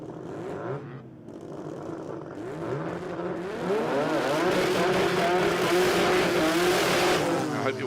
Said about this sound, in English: The dulcet tones of the rotary engine.